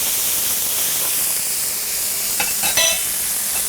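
Four to five cloves of minced garlic hit a hot frying pan with very little water for a turkey and green bean stir fry, producing a steady bright sizzle and hiss with a few crackles near the end.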